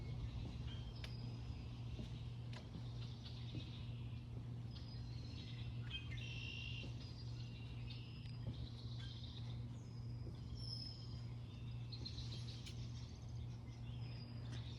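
Birds chirp and tweet at dusk. Their high, scattered calls rise above a steady low hum that carries on through the whole clip.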